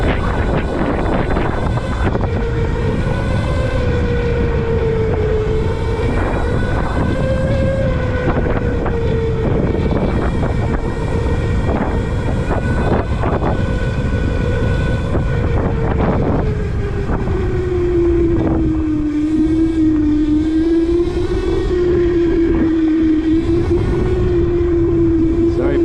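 An ETM RTR motorbike climbing hills, its engine holding a steady droning tone that rises and falls with the load, under constant wind buffeting on the microphone and an occasional voice.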